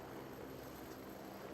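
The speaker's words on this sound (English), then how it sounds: "This helicopter is just the sexiest one we have in WARNO." An A109 helicopter in the real-time strategy game WARNO hums past as a dense, steady rotor and engine roar, moderately loud and unbroken, with no talk.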